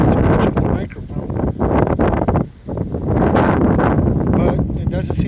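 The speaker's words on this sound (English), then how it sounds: "Wind's pretty good today. Hope that doesn't mess too much with the microphone." Strong wind buffets a microphone outdoors at a small cemetery among factories, a constant loud rumbling roar with gusty swells and one brief lull midway.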